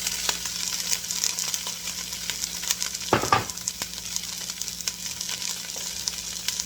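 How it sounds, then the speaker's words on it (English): Broccoli and mushrooms fry in a pan with a steady, moderate sizzle throughout, broken by a brief louder clatter of stirring near the middle. "I think I'll put the broccoli and the mushrooms in together."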